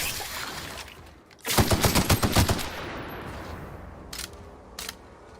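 A quick burst of weapon fire in The Outer Worlds, loud and close, which fades into a reverberant tail. Two fainter single shots follow later.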